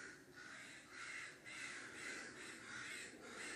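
Several crows caw repeatedly in a steady rhythm of harsh calls over a constant background hiss, fairly distant and alone without any talking.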